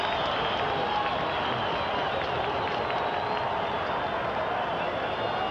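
Stadium crowd at a 1982 Broncos football game against the Seattle Seahawks, a continuous roar of cheering and clapping, dense and even throughout, heard from a distance with no talk over it.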